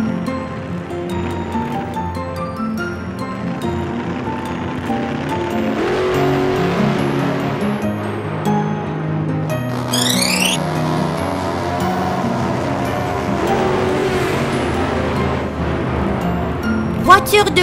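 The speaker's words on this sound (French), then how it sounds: "Voiture de course." Cartoon race car engine and rushing motion sounds play steadily under loud, busy music, with one quick whooshing sweep partway through.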